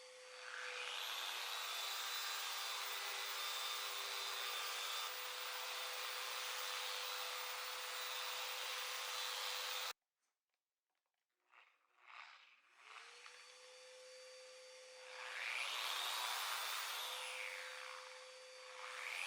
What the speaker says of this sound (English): I like to use a DA polisher to apply the Rubio